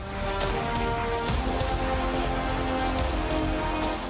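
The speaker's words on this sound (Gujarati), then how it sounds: "મહીસાગર જિલ્લામાં અનેક વિસ્તારોમાં મુસળધાર વરસાદ છે તે વરસી રહ્યો છે।" Heavy monsoon rain pours down in Lunawada town in Mahisagar district, Gujarat, a dense, even wash of noise with scattered louder splashes and no voices.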